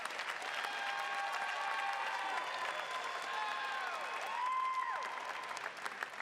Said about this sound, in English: Please join me in a round of applause for the Master of Public Management students.